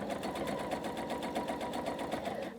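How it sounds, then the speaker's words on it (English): A sewing machine stitches quilt strip sets with a fast, even mechanical whir and needle rattle, running close and steady throughout. "I'm just going to continue stitching"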